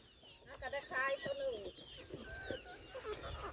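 Chickens cluck and squawk close by at a rural Thai market, several short bursts of clucking over quiet background chatter, with people talking faintly.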